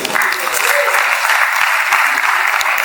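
An audience at a keynote workshop on writing and publishing papers claps for IEEE, with steady, dense applause filling the room from start to finish and no talk over it.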